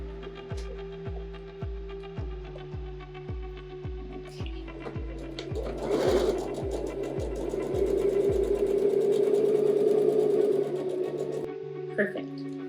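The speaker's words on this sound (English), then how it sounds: "and sew the bottom." A sewing machine sews the bottom seam of a fabric face mask, starting with a rhythmic thumping of regular stitches and then speeding into a continuous whir, with a voice speaking over it.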